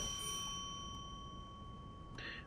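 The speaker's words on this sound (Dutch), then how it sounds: "Luide bel." A single train cab bell dings faintly with a lingering ring, then a brief second chime near the end over a low steady hum.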